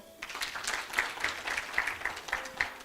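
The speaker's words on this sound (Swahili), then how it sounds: "makofi kwao" An audience applauds at a savings and credit cooperative awards ceremony, with quick, crisp claps from many hands in a lively, even patter for a few seconds.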